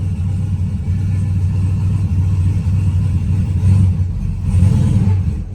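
A 2500 truck with stiff power steering moves under its own power, its engine giving a low, steady rumble that swells slightly as it accelerates, heard close and alone.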